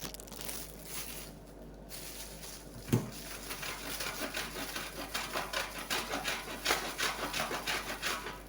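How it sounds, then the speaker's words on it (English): Mozzarella cheese rubbed against a grater makes close, rhythmic rasping strokes that grow steadier and quicker toward the end, with one soft knock partway through. "now we are going to grate the mozzarella cheese"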